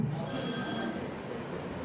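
Before a phone call to a pastor, a telephone rings with a steady electronic tone that sounds faint and continuous over low background hum.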